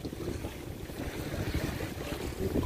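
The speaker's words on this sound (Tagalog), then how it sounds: "napakaalon niya yung araw na to. Sobrang alon." Rough, choppy sea at a fish pen at night, heard from a boat: a steady loud wash of waves with strong wind buffeting the microphone throughout, with no talk.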